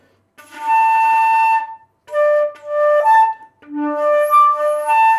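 A flute played as harmonics, jumping between overtones in three separate sustained tones with short breaths between them, clear and close, with no talking.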